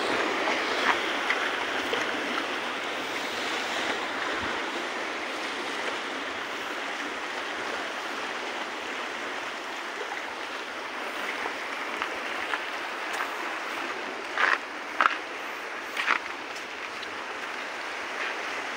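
Water of the murky Pasig River flowing, a continuous broad rushing wash heard close, with a few brief splashes near the end.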